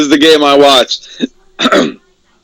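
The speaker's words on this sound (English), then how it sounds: "Hold on, clear my throat here" A throat clearing between stretches of voiced sound, a short rough burst followed by a gravelly, voiced rasp, close and fairly loud.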